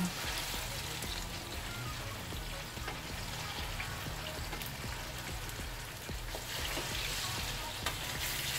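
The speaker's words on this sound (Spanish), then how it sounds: "Vamos a mover los plátanos, que ya lo echamos." Ripe plantains sizzle steadily in a caldero while being stirred, a dense, continuous frying hiss with soft scraping close by, no voices.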